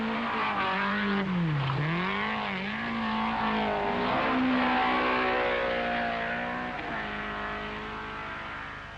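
A rally car driven by Henri Toivonen at the 1981 Esgair Dafydd Rallysprint, its engine rising and falling in pitch as it revs hard through a corner, loud and close, swelling then fading slightly as it passes.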